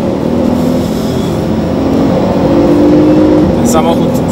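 A Porsche 911 Turbo of the 991 generation accelerates at full throttle, a loud, steady engine roar that builds slightly, heard from close by with a brief higher whine near the end.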